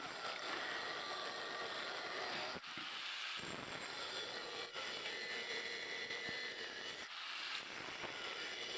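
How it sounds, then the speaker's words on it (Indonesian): An angle grinder cuts steel for a survival knife, a loud continuous whining grind that drops out briefly twice as the tool comes off the metal, no voices. "kita potong-potong pakai gerinda seperti itu sesuai pola"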